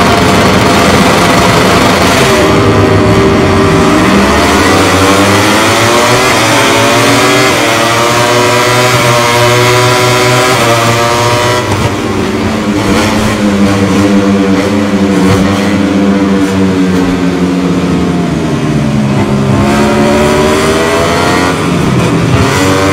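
Ducati motorcycle engines roar continuously in MotoGP 22 at Mugello, a loud, dense field of high-revving bikes whose pitch climbs and falls through gear shifts and passing, with no talk.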